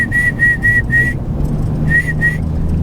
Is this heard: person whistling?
yes